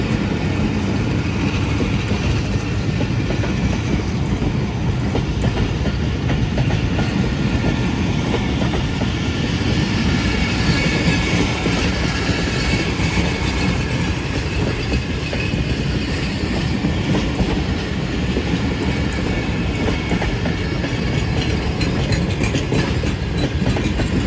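The 13 Up Awam Express at Drigh Road Railway Station makes a loud, close, unbroken rumble with rapid clattering wheels and rattling carriages, steady for the whole stretch with no voices.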